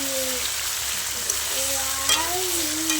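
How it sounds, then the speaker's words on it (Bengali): Chicken pieces go into spiced masala oil in a pan for a Bengali chicken kosha, producing a continuous, fairly loud sizzle with faint tonal sounds drifting in the background. "এবার মশলা থেকে তেল ছেড়ে দিয়েছে, এবার মাংসগুলো দিয়ে দিলাম"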